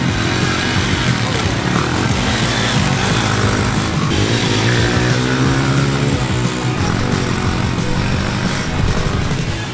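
Honda CRF100F dirt bike engine running, a loud continuous buzzing drone with shifting revs throughout, with talk partly mixed underneath.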